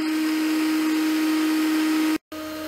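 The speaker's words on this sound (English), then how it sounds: "Dale's got the vacuum going, picking up the dust" A shop vacuum sucks up dust beside a running machine, a loud steady whine with a constant tone that cuts off abruptly, then resumes at a lower, different pitch.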